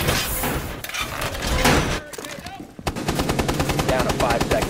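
Rapid automatic gunfire in Rainbow Six Siege, loud bursts of shots in the first two seconds, a brief pause, then a fast steady stream of rounds to the end, with a player's voice mixed in.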